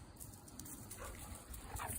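A brindle dog in black, brown and white whimpers and makes soft vocal whines while being petted in a garden, the short cries close and fairly quiet against light background noise.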